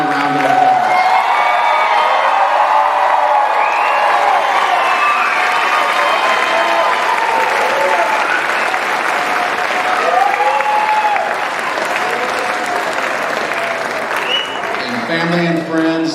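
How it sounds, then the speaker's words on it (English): Graduates at a high school graduation ceremony receive a long round of crowd applause mixed with cheers and whoops, loud and sustained, with voices calling out over the clapping. "Let's give them all a giant round of applause."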